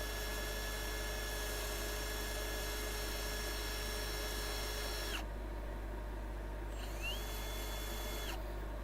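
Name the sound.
sanding wood on a lathe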